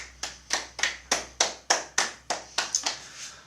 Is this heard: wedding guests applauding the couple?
yes